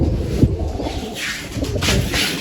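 Domestic pigeons kept for flying coo in a low, murmuring way amid a steady wash of loft noise, the calls soft and blended rather than distinct.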